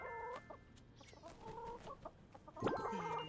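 Hens in the farming game My Time at Sandrock clucking close by, several birds giving overlapping short clucks and bawks, with a louder burst near the end.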